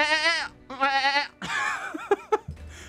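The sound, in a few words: person imitating a goat scream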